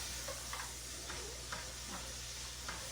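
Fresh mushrooms sauté in a pan for a homemade lasagna, giving a low, steady sizzle with faint scraping stirs every half second or so, close and even throughout with no talking.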